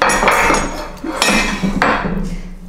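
Metal baking tray for vegan mince pies handled on a kitchen counter, a few sharp clanks and knocks of metal over a couple of seconds, close and fairly loud.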